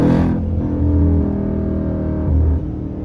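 A Jeep SRT SUV's engine pulls hard in a brief burst of acceleration, a deep, loud rumble with rising harmonics that swells near the end and then eases off.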